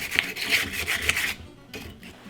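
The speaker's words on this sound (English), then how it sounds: "Take a piece of 600 grit sandpaper and go in there and polish it up." 600 grit sandpaper scrubs inside a Ruger 10/22 receiver, a close, rhythmic back-and-forth rasp of about five strokes that then stops, leaving faint handling noise.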